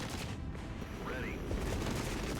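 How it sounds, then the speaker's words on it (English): Dense, continuous gunfire in the tactical war game Regiments at Gotha, a steady rattling fusillade mixed with distant booms, with radio-style voice chatter over it. "Reporting hostile fire"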